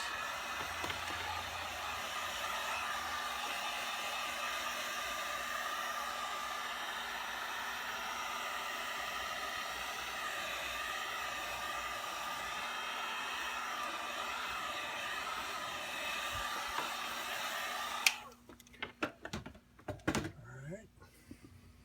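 A handheld dryer blows steadily on the back of an alcohol ink painting, a constant close broadband roar for about eighteen seconds before it cuts off, followed by a few light handling knocks.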